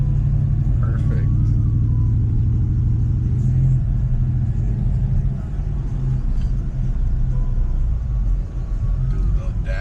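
An Audi S4 with a suspected blown transmission driving straight, giving a steady low engine and road rumble throughout, with people talking over it.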